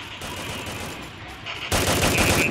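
Gunfire in the Free Fire video game, rapid automatic bursts that grow louder and denser partway through, with a continuous rattling burst to the end.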